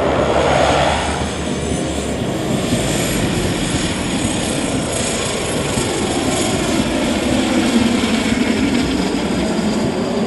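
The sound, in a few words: propeller airplane landing on a dirt airstrip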